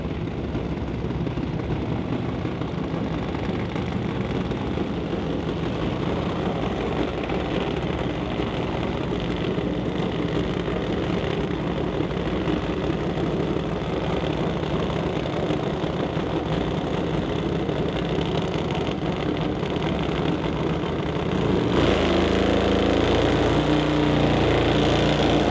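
A Top Fuel Harley drag motorcycle of about 1,000 horsepower idles with a steady, loud, rough drone, then its engine note shifts and grows louder near the end, with no talk over it.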